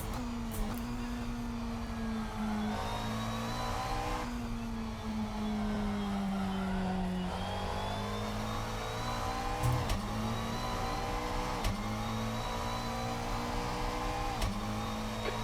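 Mid-engine GT3 race car in Assetto Corsa at Suzuka, its engine droning steadily and loud throughout with pitch rising and falling through gear changes, a continuous close onboard roar with no talking.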